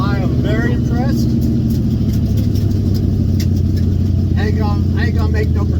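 A Chevrolet Vega engine idles close by with a steady low rumble that runs the whole time, while people talk over it.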